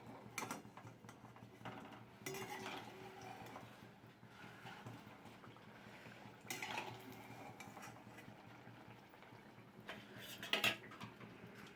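Fried pointed gourd pieces being lifted from a pan with a metal utensil, giving intermittent scraping and clinking of metal against the pan with a few louder clatters over a steady background hum.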